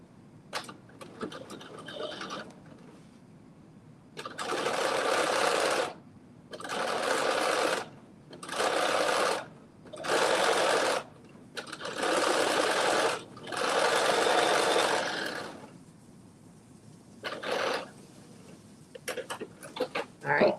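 A home sewing machine stitches a dart in six loud, close bursts of fast whirring separated by short pauses, with quieter handling clicks before and after.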